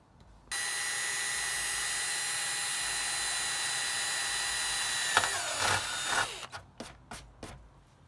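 A power drill whines steadily and loudly through holes for mounting a carbon ZL1 front splitter lip on a Camaro SS, then stops, followed by a few short clanks and bursts of tool noise.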